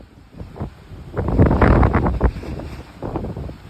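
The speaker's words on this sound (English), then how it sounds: "I know it's really windy." Strong wind buffets the microphone aboard the cruise ship Royal Caribbean Odyssey of the Seas, a loud, rumbling broadband roar that swells and gusts without pause and drowns out everything else.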